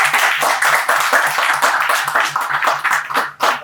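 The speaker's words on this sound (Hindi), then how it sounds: "तो गिरीश सर के लिए भी जोरदार तालियां हो।" Loud, continuous clapping from an audience at a business presentation, dense applause lasting the whole short stretch with a few sharper claps toward the end.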